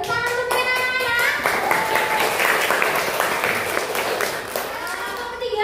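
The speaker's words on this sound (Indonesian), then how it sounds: "Tepuk tangan untuk anak-anak" A classroom full of children claps together during a science lesson, with steady, lively applause lasting several seconds and voices chattering over it.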